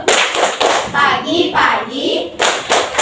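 Children in an Indonesian primary school classroom clapping a patterned rhythmic class clap, sharp bursts of hand claps in groups with short pauses, close and loud, mixed with young voices.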